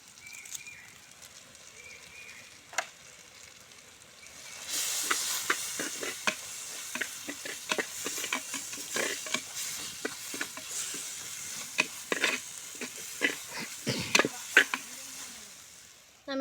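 Ground masala and curry leaves hit hot oil in a pan for quail fry, bursting into loud crackling sizzle after a quieter start, with scattered pops and stirring scrapes continuing close by.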